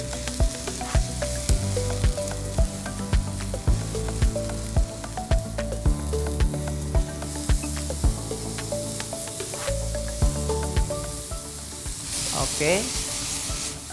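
Chopped mushrooms sizzle and fry in a pan for japchae, a continuous crackling hiss with occasional stirring. Rhythmic background music plays throughout, and a voice briefly speaks.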